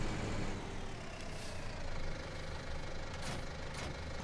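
A tractor with a front loader in Farming Simulator 19 runs with a steady droning engine rumble and a hiss of noise, continuous and fairly loud, with no speech over it.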